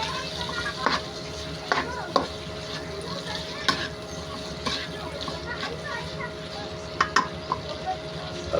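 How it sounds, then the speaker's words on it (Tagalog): Pork sautés in a pan for igado, a steady sizzle punctuated by sharp scrapes and clinks of a utensil stirring, with a person talking over the cooking. "Maganda na yung medyo nagigisa na yung ating pork."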